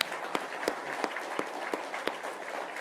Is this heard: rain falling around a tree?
no